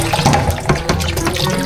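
Tap water runs steadily into a sink as boiled ube (purple yam) is rinsed by hand, a close, continuous splashing stream.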